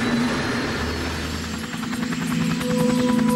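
A Sikorsky helicopter in flight, steady rotor and engine drone with a rhythmic blade chop growing more pronounced toward the end, heard fairly close and alone.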